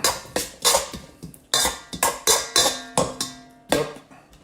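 A pasta salad seasoned with salt and pepper is tossed with utensils in a bowl, giving about a dozen sharp, close clinks and clacks in an uneven rhythm, with no talking.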